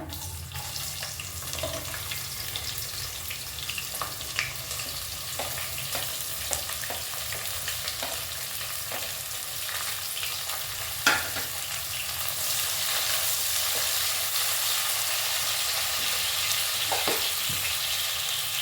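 Sliced onions fry in hot oil with cashews and garam masala for simple aloo pulao, giving a steady sizzle throughout with scattered clicks and stirring scrapes that grow a little louder toward the end.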